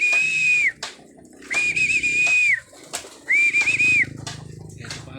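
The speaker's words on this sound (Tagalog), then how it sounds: "Ayun sila mga kalapatids." Pigeons in a coop give three drawn-out, whistle-like calls in sequence, close and fairly loud, broken by short rustles and wing flaps.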